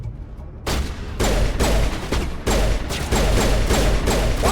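Video game gunfire pounds in loud, rapid bursts of shots with heavy low thumps, a short pause between volleys, close and dominant throughout.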